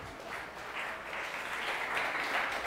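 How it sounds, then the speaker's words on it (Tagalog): Church congregation clapping together during a service, a brief, steady wash of many hands at moderate, somewhat distant level. "Palakpakan po natin si Jesus."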